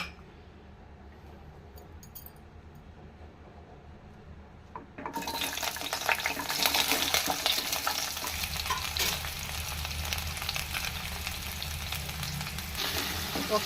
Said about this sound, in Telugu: ఆనియన్స్, టమాటా, పచ్చిమిర్చి ఇవన్నీ కూడా వేయించుకోవడానికి కొద్దిగా ఆయిల్ వేసుకుందామండి